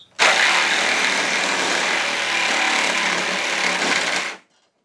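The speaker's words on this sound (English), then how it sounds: "I switched out the wood blade for a metal cutting blade" A Black & Decker Matrix saw fitted with a metal-cutting blade bites into 1/8-inch steel flat stock, a loud close whine that runs steadily for about four seconds and then cuts off.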